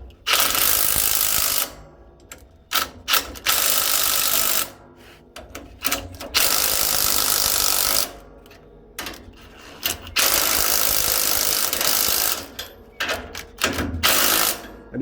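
Ratchet spinning up the spring eye bush bolts on an Ifor Williams trailer, heard as loud bursts of rapid mechanical clicking that run for a second or two each, with short pauses between them.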